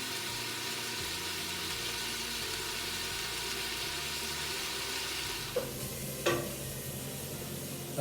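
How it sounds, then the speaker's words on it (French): Meat browning in a pan for a couscous, giving a steady, fairly soft sizzle throughout with a couple of brief clinks near the end. "j'ai fait rissoler mes viandes, comme vous avez pu voir sur la vidéo"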